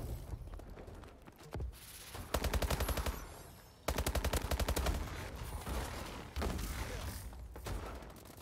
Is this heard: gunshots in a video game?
yes